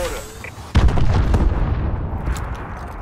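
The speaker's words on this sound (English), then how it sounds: "Friendly missile strikes incoming." Friendly missile strikes land in a first-person shooter game, a sudden loud low boom hitting partway through and rolling into a sustained rumble of blasts that fades slowly.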